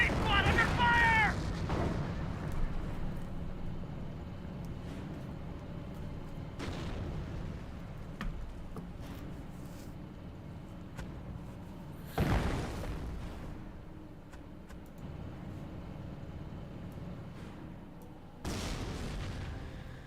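Gunfire and booming blasts strike an anti-tank squad in Company of Heroes, sharp bursts scattered over a low rumbling battlefield, with speech running underneath.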